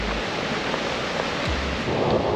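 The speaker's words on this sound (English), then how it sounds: "even though it's raining like crazy. It is raining." Heavy rain pours in Portland, Maine as a dense, constant wash, while low thunder rumbles roll in briefly at the start and again in the middle.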